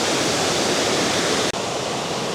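A waterfall in Yoro Valley, Chiba, swollen after rain, gives a loud, steady roar of rushing water that is close and continuous, with no voices.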